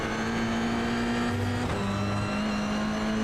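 A Toyota GR86 engine in iRacing at Sebring drones steadily under throttle, its pitch holding, then dipping briefly as the car brakes before climbing back. The engine is loud and close, with no talk over it.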